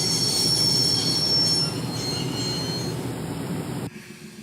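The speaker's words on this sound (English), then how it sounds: "I'd always wanted to stop a train, and now was my chance." A train's wheels squeal loudly and continuously as it brakes to a stop in the video game Broken Sword, a harsh metallic screech over rumbling rail noise that ends abruptly near the finish.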